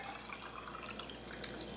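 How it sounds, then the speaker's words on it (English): Filtered water poured over sprouts in a small jar, a faint, short trickle with light dripping, close and alone. "all I'm gonna do is just fill up my little sprouts here with filtered water"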